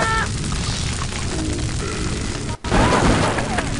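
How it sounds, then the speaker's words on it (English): A shotgun's secondary fire in the video game Blood, a loud, continuous roaring crackle of burning fire with booming blasts that fills the whole stretch, dropping out for a split second before surging back. "that fire, like, fire crackling sound is, like, deafeningly loud"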